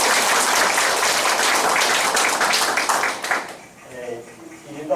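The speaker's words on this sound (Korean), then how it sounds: "큰 박수 부탁드립니다." Lecture audience at a Korean polytechnic teaching session gives a round of applause: dense, loud clapping for about three and a half seconds, then it drops away to a quieter room with a voice beginning to talk.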